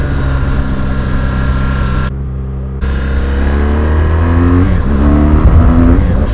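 A 2017 BMW R1200GS motorcycle engine drones loudly while riding in dynamic mode, with wind rush. The sound briefly dips, then revs climb steadily.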